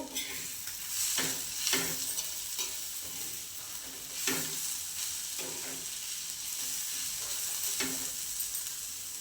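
Onion and green chili with salt sautéing on low heat in a pan for a spicy thecha: a soft continuous sizzle broken by a handful of spaced spatula scrapes, fairly quiet and close.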